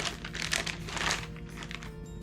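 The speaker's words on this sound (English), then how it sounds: "Just rip the package." A Berkley PowerBait soft plastic bait package is torn open in a short burst of crinkling, ripping plastic, close and fairly quiet, with no voices.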